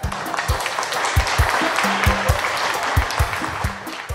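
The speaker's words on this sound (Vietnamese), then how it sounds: "Quý vị ơi, cho một tràng pháo tay chúc mừng hai cháu cái đã." Guests at a Vietnamese engagement ceremony break into steady applause, dense clapping carrying through the room alongside faint murmured voices and a few sharper claps near the microphone.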